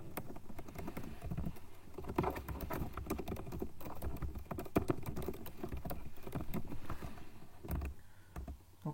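Steady, dense clicking of a computer keyboard while someone types C code, continuous and close-up with irregular key taps throughout.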